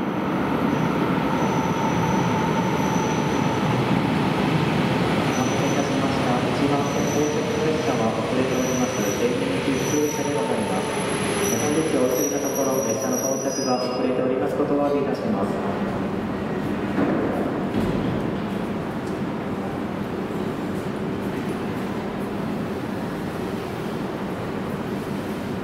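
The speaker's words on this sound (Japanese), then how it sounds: "1番線に列車が到着いたします。" A 731 series train pulls into Kotoni station, its rumble and wheel squeal loud and close at first, then fading as it slows to a stop.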